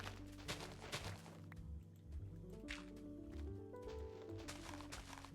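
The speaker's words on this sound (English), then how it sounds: "Do I hear flowing water?" Water flowing in the Minecraft video game, a soft continuous trickle with dripping and splashing textures and tonal game sounds layered over it, steady and fairly faint.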